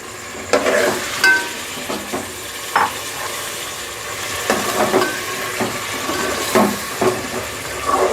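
Chicken pieces fry with light-browned onions in a hot pan, giving a steady sizzle punctuated by several sharp scraping stirs and clatters of the spoon at irregular intervals, with no voices.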